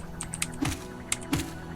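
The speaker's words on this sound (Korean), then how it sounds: "아 키보드로 하니까 이렇게 편한걸" Computer keyboard keys clacking in a few quick, light taps while playing Hollow Knight, with two sharper strokes standing out against faint game sounds.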